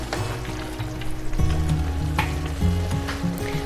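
Spaghetti Bolognese sauce sizzles in a pan as a couple of squirts of balsamic vinegar or glaze hit it, with a steady close sizzle that briefly surges louder with the added liquid.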